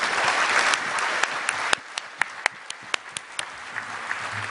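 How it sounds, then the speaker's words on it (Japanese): An energy conference audience in Japan gives panelists a big round of applause: dense clapping that thins out midway into a few scattered, sharp individual claps continuing to the end. "パネリストの方に大きな拍手をお願いしたいと思います"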